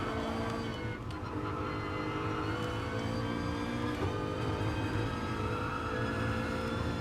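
Race car engines in a racing video game give a steady, dense, continuous roar with sustained engine tones, holding nearly constant loudness throughout with no voices.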